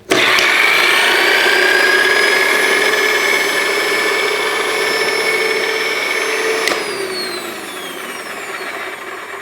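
A Bissell dual head floor scrubber spins its scrub brushes, giving a loud, steady motor whine with high tonal overtones that stays constant, shifts pitch slightly when tilted by hand, and fades a little toward the end.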